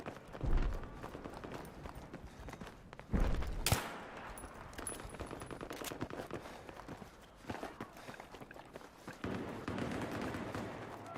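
Scattered gunfire and movement in a Battlefield 3 match on PS3, with a few louder shot bursts among running footsteps and general game noise, moderately quiet throughout.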